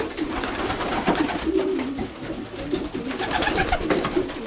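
Racing pigeons coo softly and repeatedly amid a dense, steady rustle of many birds close by, with no talking.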